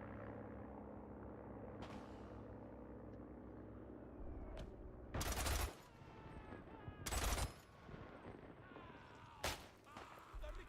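Bursts of video game gunfire, loud sharp volleys at intervals over a continuous rumbling game soundscape, with faint talk in the background.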